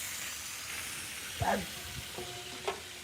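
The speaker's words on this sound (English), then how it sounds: "Frying chicken and cutting up some onion." Chicken fries in hot oil for a Ghanaian wedding meal, a soft steady sizzle and hiss running throughout, broken by a few faint clinks and knocks, with a brief voice in the background.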